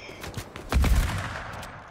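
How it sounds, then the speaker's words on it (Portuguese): Gunfire in the Fortnite battle royale game: a short, fast burst of several shots crackles at moderate loudness, with a heavier thump in the middle and quieter pops trailing off. "Apex, estás-me a acertar assim, esses tiros assim no ar, estás-te a passar?"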